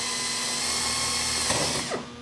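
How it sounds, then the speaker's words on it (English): Power drill with a number 30 bit boring a rivet hole in sheet metal, a loud steady high whine held close up that winds down at the end. "I'm going to drill this one in the center"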